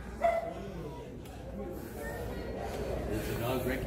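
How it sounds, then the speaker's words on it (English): A dog barks and yips a few times indoors in a museum room, a short bark near the start followed by quieter whimpering sounds, mixed in with people talking and room noise. "Recognize that bark."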